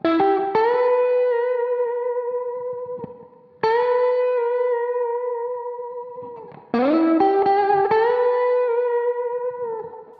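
Electric guitar solo notes, played with vibrato and effects, three sustained singing phrases with bends and wavering pitch, each ringing out and decaying, alone with no voices.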